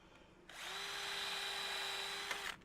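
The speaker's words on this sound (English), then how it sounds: "Drill a hole." A power drill whirs steadily for about two seconds, boring a hole for a gate latch, close and alone.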